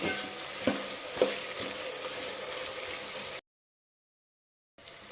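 Onions sizzle in a hot pan with a steady close hiss and a couple of spoon knocks, then the sound cuts out abruptly before resuming briefly.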